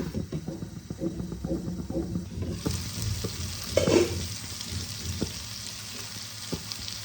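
Chillies fry in a pan over low heat, a soft crackling sizzle that rises after a few seconds alongside scattered stirring clatter and a short scrape, with faint background voices.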